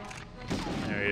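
Gunfire from the video game Medal of Honor, a short burst of muffled shots heard at a distance and blended into the game's ongoing ambient noise, with no clear individual reports.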